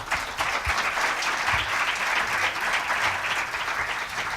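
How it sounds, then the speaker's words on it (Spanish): Audience applause welcoming a speaker at a talk in Albacete, a steady dense clapping from a sizable crowd that holds evenly for the whole stretch, fairly close and loud. "Vamos a recibirle con un aplauso."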